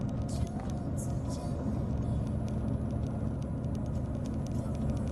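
Steady road noise and engine drone from inside a lowered car on a two-hour drive to the sea in Tottori, a dense continuous rumble with faint rattles throughout.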